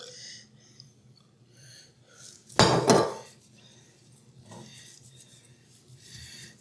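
A metal rack and a chicken set into an All-Clad oval baker, with a loud metallic clatter and scrape lasting about half a second in the middle, surrounded by quieter rustling and light kitchen handling.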